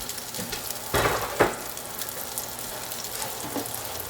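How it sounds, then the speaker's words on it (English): A roughly chopped yellow onion hisses softly in a pan, with a couple of louder bursts of sizzle near the start as it is stirred, then settles to a low, even fry. "So I have one yellow onion, roughly chopped. I'm just going to put that in there and let it cook."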